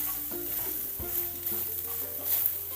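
A spoon stirs an onion-and-coconut base for jackfruit thoran in a pan over low heat, giving soft scraping strokes over a faint steady sizzle, close and quiet with no voices.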